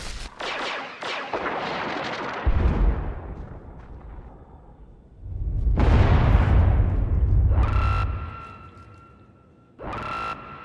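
Game-world gunfire and heavy explosions burst out during an assault in Star Wars: The Old Republic, with loud booms, rattling shots and rumbling blasts in several surges, then a whining tone over the later bursts.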